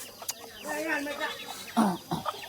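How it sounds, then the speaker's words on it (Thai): Chickens cluck in a rural yard, a few short irregular clucks near and moderately loud, mixed with someone talking over them. "กำลังมาเลยไก่พี่น้องเลย"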